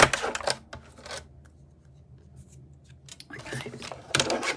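Scissors cut through card for a banner message card in several close, crisp bursts of snipping, separated by a quieter pause of handling.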